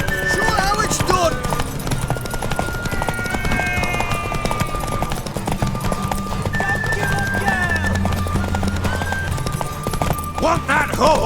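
Horse hooves clip-clop steadily in the game The Witcher 3: Wild Hunt, close and rhythmic, with occasional whinnies and a voice speaking over the hoofbeats along with music-like tones.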